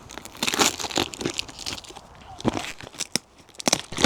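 Hands rip open a recycled cardboard box that once held dates and now holds plants with newspaper wrapping, making close, irregular bursts of crinkling, tearing and crunching with brief pauses between.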